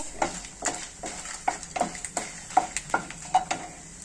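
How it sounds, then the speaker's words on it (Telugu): Coriander seeds frying in a pan, a soft sizzle broken by rhythmic scraping and stirring strokes at a steady pace, close and fairly quiet. "ఇందులో 1 టీ స్పూన్ ధనియాలు కొంచెం వేగిన తర్వాత"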